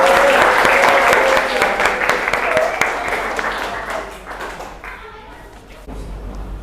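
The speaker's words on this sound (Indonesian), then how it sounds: "Beri aplaus untuk kelompok Mas Andika." A classroom gives applause for a student discussion group, with steady dense clapping from many hands that gradually thins and fades out over several seconds.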